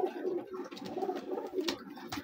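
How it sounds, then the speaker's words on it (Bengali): A silver-coloured male giribaj pigeon coos softly nearby, a short run of low, throaty rolling coos repeated in quick succession. "এটা হচ্ছে সিলভার কালার একটা কবুতর,"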